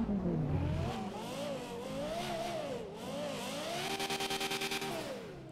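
A car engine in a video game revs and wavers up and down continuously, rising and falling in pitch, ending in a rapid stuttering rev-limiter chatter.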